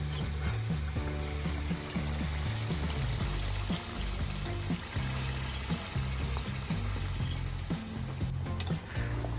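Hot water poured into a pan of Hyderabadi chicken masala, a continuous close trickling and splashing over a low background hum, no talk.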